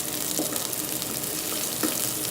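Onions cooking in a pot for creamy chicken sopas, a steady close sizzle and crackle with a couple of soft stirring scrapes.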